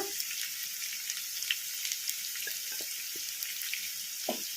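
Crushed garlic tossed into capsicum frying on a high flame, giving a steady hiss of oil with a few soft pops and clatters, all fairly quiet with no one speaking.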